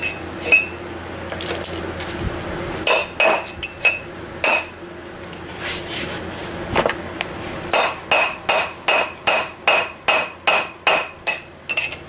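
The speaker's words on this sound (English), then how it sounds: "I'm gonna get a bigger hammer." Hammer blows on metal during a wheel bearing replacement: scattered clanks at first, then a fast, regular run of about a dozen sharp, ringing strikes, loud and close.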